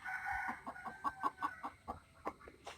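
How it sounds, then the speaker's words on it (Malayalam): Free-range chickens clucking in a series of short, evenly spaced calls, moderately close, with a brief rooster-like note among them and no talking. "അഴിച്ചുവിട്ട് വളർത്തുന്ന കോഴികളാണ്"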